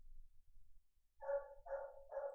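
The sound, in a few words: dog barking in the background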